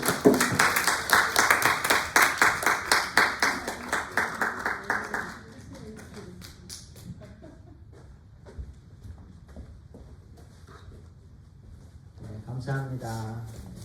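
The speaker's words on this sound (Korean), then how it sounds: "감사합니다. 우리 박수로." Church congregation at a Sunday service clapping for a gift to the elders: brisk, fairly loud applause for about five seconds that stops abruptly, followed by quiet room noise and soft talk.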